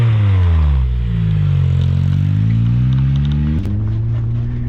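Volkswagen Bug fitted with a Honda engine pulling away, a loud close engine note rising and falling as it revs through gears, with a brief clunk midway.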